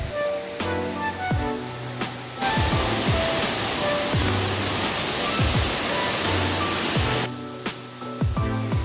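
Waterfalls in a canyon give a broad, continuous rush of falling water that swells louder in the middle section. Sharp clicks and knocks sound over it near the start and end, and no one speaks.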